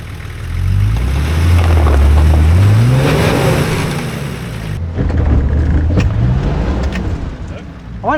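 A TD42 diesel 4x4 revs hard, its engine rising and falling in repeated surges as the wheels spin on Maxtrax recovery boards on a dirt track, loud and close, with a brief lull midway.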